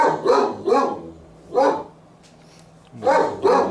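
A dog barks in five sharp, loud, close woofs, two quick barks, a single one, then another quick pair, with quiet pauses between.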